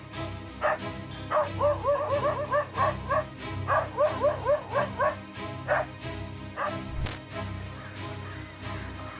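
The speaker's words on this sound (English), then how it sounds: "when the dog jolts awake and screams in fear" A dog, jolted from deep sleep by an attacking jaguar, yelps and whimpers in fear in rapid, high-pitched bursts, loud and close, with some longer cries among them.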